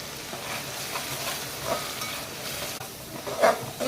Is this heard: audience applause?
no